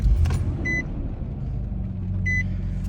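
A Nissan Xterra engine idles with a low steady rumble close by while two short electronic dashboard chimes ring out, one early and one late.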